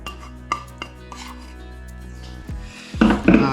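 Crushed biscuits being stirred into melted butter in a bowl for a no-bake Kinder cheesecake base, giving a few scraping, rasping strokes followed by louder gritty mixing near the end, close and without talk.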